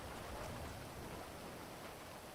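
Rain in the GTA video game, a steady, even hiss of falling rain, faint and unbroken throughout.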